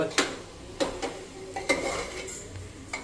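Vegetables cooking in oil in a pan are stirred, giving a handful of sharp utensil clanks and scrapes at irregular intervals over a soft continuous sizzle, close by and without speech.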